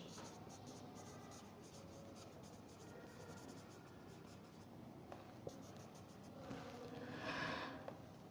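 Resonance forms for an aromatic chemistry lesson are written on a board, heard as faint continuous scratchy strokes and taps, quiet and close throughout with a brief louder scrape near the end.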